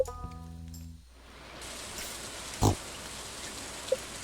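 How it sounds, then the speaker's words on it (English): One short, loud pig oink from the Stardew Valley farming game cuts through soft background ambience after a few plucked musical game tones fade out, with a faint blip afterward and no speech. "Actually, I think we'll go ahead and just fill the barn up with pigs."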